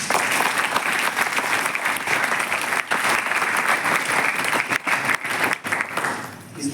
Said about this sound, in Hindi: इस बात पे क्या ताली बजाना